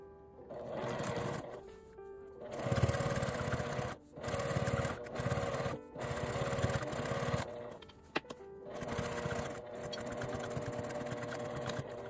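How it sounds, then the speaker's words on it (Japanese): A sewing machine edge-stitches the folded seam allowance on fabric while a coin-through wallet bag is being made. The motor whirs in several steady runs, broken by short pauses, close and clear with no talk. "縫い代は表側に倒して端ミシンをかけます"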